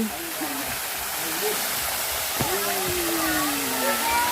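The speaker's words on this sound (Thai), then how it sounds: "เป็นน้ำตกด้วยดูสิ" A steady, loud rush of falling water roars continuously, with faint voices and tonal sounds drifting over the constant spray.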